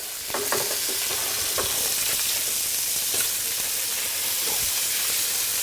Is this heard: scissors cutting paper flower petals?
no